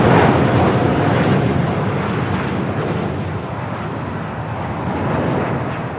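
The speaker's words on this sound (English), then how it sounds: "This is Latam Airlines Flight 8087 taking off to Sao Paulo, Brazil on a 787-9 Dreamliner." A LATAM Airlines Boeing 787-9 Dreamliner takes off at LAX, its jet engines producing a loud, steady broadband roar that stays strong throughout, with wind buffeting the microphone.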